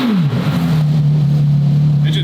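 A modified twin-turbo Ferrari F12 V12 drops quickly in pitch from a rev, then settles into a loud, steady, deep drone close by.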